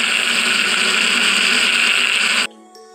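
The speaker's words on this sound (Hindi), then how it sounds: "इसको ब्लेंड करते हैं।" A blender whirs loudly and steadily for a couple of seconds while blending gravy for kadhi pakora, then cuts off abruptly, leaving near silence.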